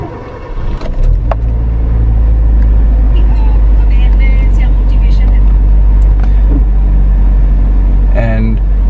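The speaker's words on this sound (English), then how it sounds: "So now I will switch on the car" A car engine idles steadily after being switched on, a loud, constant low hum close by, with faint clicks and rattles over it.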